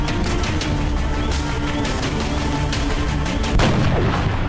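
A sniper rifle headshot in XCOM: Enemy Within, fired at a sectoid near a crashed UFO. A loud, dense rumble of game sound builds steadily, then one sharp heavy report lands near the end.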